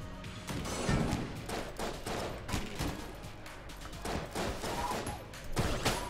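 Rapid bursts of gunfire in the video game Enter the Gungeon, repeated shots cracking loudly in quick succession with occasional heavier thuds, no talking.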